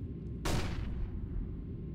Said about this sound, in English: Throw in the flashbang!